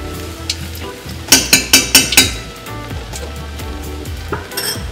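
Food for poutine fries in a pan on a stovetop burner, a loud close sizzle broken by a quick run of five sharp utensil scrapes and clacks against the pan, then a steadier hiss with a few scattered knocks.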